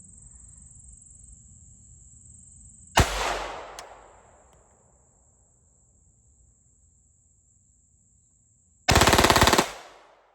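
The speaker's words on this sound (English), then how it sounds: "we're going to be loaded up with 15 rounds of the PPU 71 grain new production" A .32 ACP pistol firing PPU 71 grain new-production rounds outdoors, one loud close shot with a decaying echo, then a rapid string of shots about six seconds later, with steady insect chirping throughout.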